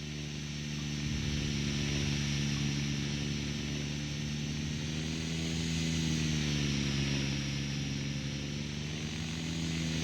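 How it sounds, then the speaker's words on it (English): An electric Gaui X7 RC helicopter flies with a continuous, even rotor and motor whine that rises and falls gently in pitch, heard alone at a moderate distance. "This one is, of course, an electric helicopter"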